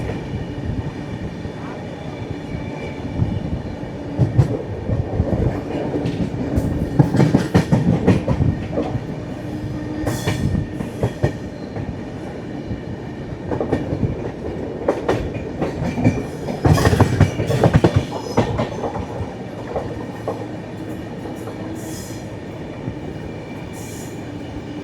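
An SMVB Bengaluru to Howrah AC Superfast Express runs on past Bangarapet Junction with a steady rumble and rhythmic wheel clatter. Louder surges come through and a faint voice sits low underneath.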